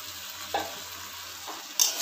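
A spoon scrapes and stirs boiled dal into a cabbage and pea curry in a pan, with a few short, soft scraping strokes over a faint background hiss and no talking.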